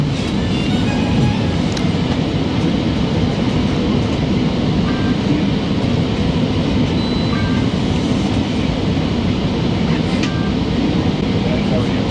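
A GO train runs toward Toronto Union Station, its steady, loud rolling rumble filling the carriage from inside, with faint rail clicks and brief squeaks over a constant low roar.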